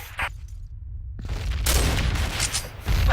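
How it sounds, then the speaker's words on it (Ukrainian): Grenade blast in a first-person shooter game, a loud broadband boom and rumble rising midway and sustained through the rest, with sharp gunfire-like cracks layered over it. "Бросаю гранату."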